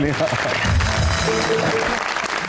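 Studio audience applause on a Pakistani talk show breaks out for an actor's comic timing, a brief burst of clapping mixed with voices and music throughout.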